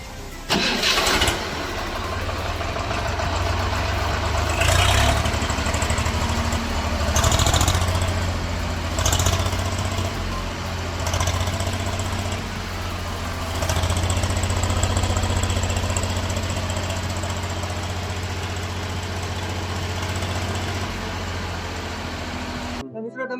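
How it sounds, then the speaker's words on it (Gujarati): A Swaraj diesel tractor with a fuel pump fault that makes it blow black smoke cranks, catches and runs loudly nearby, its engine surging and falling back to a rough idle several times. "જો આપણે ટ્રેક્ટર ચાલુ કરીએ એટલે ગેસ કાઢે છે"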